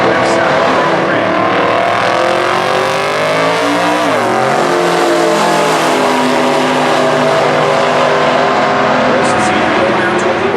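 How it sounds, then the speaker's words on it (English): A red 1988 Corvette Super Gas drag racing car charges down the strip at Indy with a loud, sustained engine howl whose pitch climbs and dips around the shift, while an announcer talks over it. "Corvette charging hard, will he get there?"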